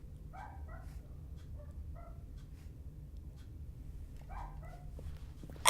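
A dog barks in short bursts, a few quick yaps then a pause and another cluster, slightly distant over a low steady hum.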